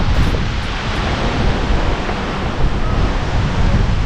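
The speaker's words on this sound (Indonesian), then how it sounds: "anginnya kenceng banget" Strong wind blowing hard and steadily outdoors, a loud, continuous roar buffeting the microphone for the whole stretch with no letup.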